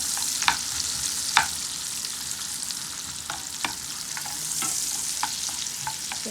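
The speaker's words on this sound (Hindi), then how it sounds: "हम इसे प्याज को ब्राउन करेंगे" Onion browning in oil and butter for a dal tempering, a bright, steady sizzle punctuated by crisp spatters and occasional stirring scrapes, close and fairly loud. No one talks.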